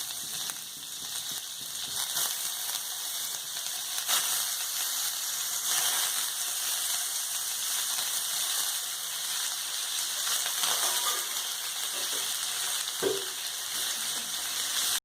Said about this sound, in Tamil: இப்போ இந்த வெண்ணெயை போட்டு இந்த பன்னீரை நம்ம பொரிச்சு எடுத்துக்கலாம்.